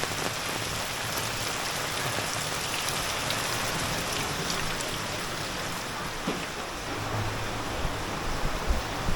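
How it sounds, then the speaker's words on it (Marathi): A downpour of heavy monsoon rain in Konkan, India, drums steadily on surfaces, a constant wash of noise with occasional louder patters nearby, no one speaking. "अजूनही पाऊस खूप पडतोय"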